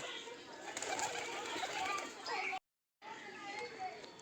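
Racer pigeons in a loft coo amid fighting birds, the calls close and busy under constant overlapping talk, with a brief silent gap.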